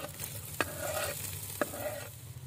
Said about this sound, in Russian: Нарезали говядину и возвращаем ее обратно в казан.